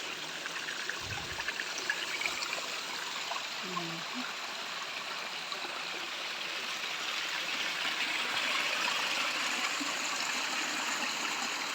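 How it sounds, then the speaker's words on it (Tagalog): Strong creek water flowing steadily on a farm lot beside Caliraya Lake, a constant rushing wash near the listener. A few brief voices and thumps are heard early on. "Kakatuwa naman ang lakas ng tubig."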